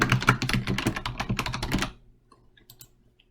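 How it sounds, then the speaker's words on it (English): Rapid typing on a computer keyboard, a busy run of clicky keystrokes for about two seconds, then stopping, with only a few faint scattered clicks after in a quiet room. "Type in the correct answer."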